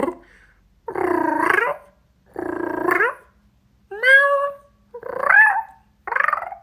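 A human voice imitates a cat, making gurgling purr-like throaty sounds followed by rising meow-like calls, five or six distinct bursts separated by short pauses, close and clear.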